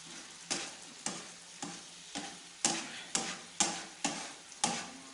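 Beef liver with yogurt frying on a tawa, stirred with a metal spatula that scrapes and clacks in an even rhythm of about ten strokes over a soft sizzle, close and clear.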